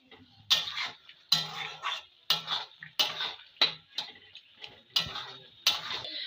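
Fried potatoes stirred into gravy in a pan for jackfruit kalia, a series of about eight sharp spatula knocks and wet scrapes in a loose rhythm, close and fairly loud; no talking.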